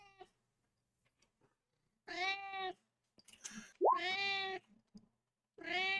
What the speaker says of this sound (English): Everybody say hi to Meteor's cat.